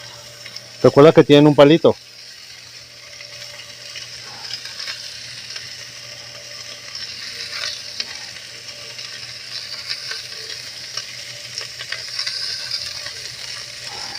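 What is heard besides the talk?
bacon-wrapped shrimp frying in cast iron pan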